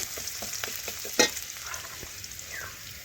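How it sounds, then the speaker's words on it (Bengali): Onions fry in a pan until reddish, making a steady close sizzle. Spatula scrapes and stirring knocks recur, and one sharp clatter comes near the middle. "পেঁয়াজ লাল লাল করে ভেজে নেব এ দেখুন ভাজা হয়ে এসছে"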